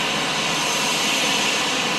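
A Cebu Pacific passenger jet comes in at the airport in Zamboanga, its engines producing a loud, steady broadband roar that fills the short stretch with no talking.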